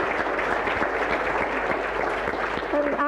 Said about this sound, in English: a big round of applause to Dr.